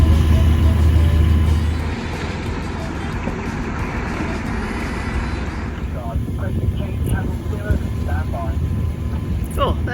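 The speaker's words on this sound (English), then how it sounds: "Two helicopters heading our way." Two helicopters pass overhead near a boat at sea, a loud rotor and engine roar that swells early then eases into a steadier drone, with voices talking over it.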